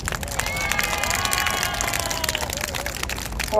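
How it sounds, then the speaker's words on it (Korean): An outdoor crowd at a political rally in Gwanghwamun Square claps steadily for several seconds, with a sustained shouted or tonal voice riding over the dense clatter of hands. "우리 한상수 우리 최고위원님을 위해서 여러분 박수 부탁드립니다."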